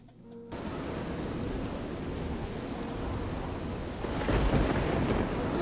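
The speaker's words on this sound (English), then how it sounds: "Why is it all stormy?" A thunderstorm in Oblivion pours steady rain, a constant hiss on surfaces, and thunder rolls in and swells louder toward the end, with no voices.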